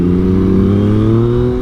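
A motorcycle engine revs hard and steady for a wheelie on muddy ground, a loud, close, continuous droning roar that climbs slightly in pitch.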